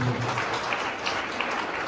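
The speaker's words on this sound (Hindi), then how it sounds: "ऐसी प्लेटफॉर्म के लिए एक बार जोरदार ताली होनी चाहिए" Loud, dense audience applause at a seminar closing speech fills the space steadily, many hands clapping at once with a brief murmur of voices at the start.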